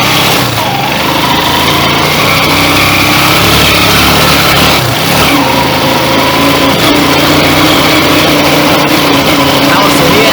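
A 150cc motorcycle engine fitted with a 125 carburetor runs continuously at high revs, a loud buzzing drone with shifting pitch while riding uphill, with wind noise throughout.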